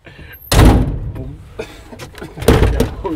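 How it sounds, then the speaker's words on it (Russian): In an old St Petersburg apartment building, an elevator door is pulled shut with a heavy metallic slam, followed by softer clunks and rattles and a later second thud, close and echoing. "Подожди, надо дверь закрыть."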